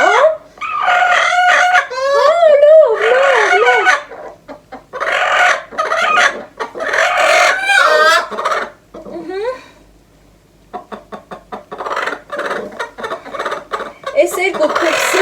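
Chickens cluck repeatedly and close by, mother hens with chicks in a farmyard. The bursts are loud and lively, with brief pauses and a human voice mixed in at times.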